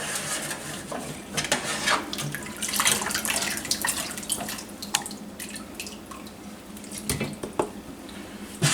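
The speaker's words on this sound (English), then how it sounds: "We're going to strain this out into a big pot here in just a second" Soup stock is strained into a big pot in a kitchen, a steady pouring and splashing of liquid with scattered clinks of cookware throughout, close and fairly loud, with no talking.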